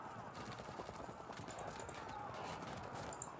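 Light cavalry hooves from the strategy game Field of Glory II, a busy steady clip-clop of many horses moving together, close and continuous, with faint game sounds layered over it.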